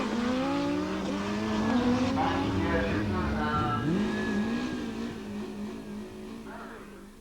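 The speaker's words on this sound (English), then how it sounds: "drag racing at its best." Streetbikes drag racing at Long Marston in 1987, engines screaming through rising and falling gear changes as they launch and pull away down the strip, loud at first and then gradually receding.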